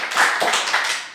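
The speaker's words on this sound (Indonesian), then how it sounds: "berikan aplaus dulu" Audience applause at a youth Bible quiz grand final, a brief burst of steady clapping from a crowd that fills the room for about a second.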